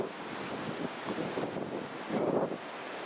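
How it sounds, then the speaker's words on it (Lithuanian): Strong cold wind blowing outdoors near water, a continuous rushing roar buffeting the microphone with gusts swelling louder toward the end. "Turim saulutę, bet šalta vėjas, labai didelis vėjas."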